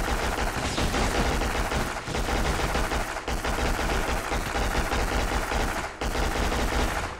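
Sustained automatic gunfire from the PS2 shooter Black, a dense, loud barrage of rapid shots and bursts that continues almost without pause, with short breaks around the two-, three- and six-second marks.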